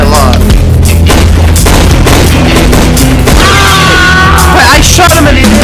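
Loud, booming gunfire in a Roblox gun game, with heavy blasts and a dense, clipped wash of game sound, background music and voices talking over it.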